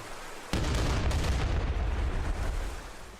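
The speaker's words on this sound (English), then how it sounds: "Just see how it feels and how it sounds like when you throw some grenades." Grenade explosions from the turn-based tactical combat video game Archrebel: Tactics hit with a sudden loud boom that rolls into a dense, rumbling blast lasting a few seconds before slowly fading.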